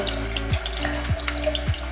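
Running tap water pours steadily into a sink as a makeup brush is rinsed of soapy water, with a low hum and periodic gurgling swells as the brush moves under the stream.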